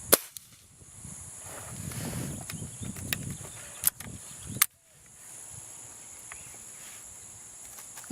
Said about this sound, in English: That was my third shot.